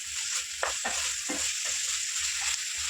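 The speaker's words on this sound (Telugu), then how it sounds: "ఇప్పుడు ఈ జింజర్ గార్లిక్ పేస్ట్ ఇంకా ఆయిల్ మంచిగా కలిపేద్దాం" Ginger garlic paste and oil hiss and sizzle in a pan while a spoon scrapes through it in several rhythmic strokes, close and continuous, with no talk.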